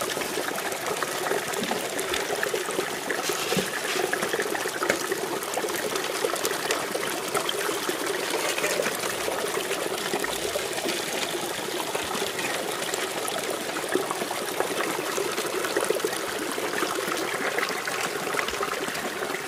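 Creek water running steadily through a gold sluice box in Arizona, a continuous close trickling and rushing flow with a constant level and no breaks.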